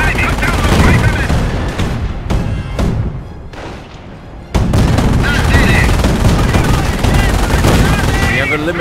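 Dense machine gun fire and scattered gunshots from a Company of Heroes: Opposing Fronts battle on the Highway 69 map, loud and nearly continuous, thinning briefly partway through before the full fusillade resumes.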